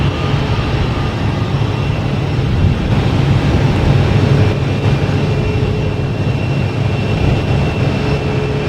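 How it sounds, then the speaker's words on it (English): PAL Airlines plane arriving from Halifax at Boston Logan Airport, a steady, loud broadband roar of jet engine noise holding evenly for the whole stretch with no talking. "Oh, we got PAL coming in from Halifax."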